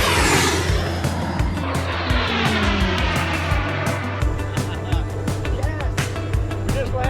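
A race airplane's engine right after landing, loud and close, with a falling whine sweeping down as it winds down, plus steady low rumble and clicks and thumps.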